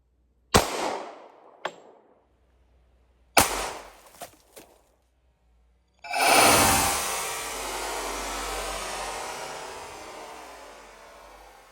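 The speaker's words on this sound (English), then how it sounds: "All right, now let's shoot the 40." .40 Smith & Wesson pistol fired at a bottle outdoors: two sharp shots, each ringing briefly, followed by a louder, sustained wash of splashing and rushing noise that fades slowly.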